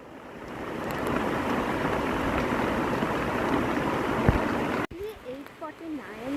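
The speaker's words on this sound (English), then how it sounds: "the rain is not stopping at all" Heavy rain pours down in a dense, continuous hiss that runs for several seconds and then abruptly drops away to quieter dripping and scattered sounds.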